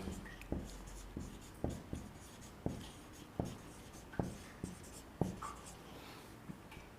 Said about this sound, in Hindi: ये यहाँ पे लिख देते हैं आयन मंडल।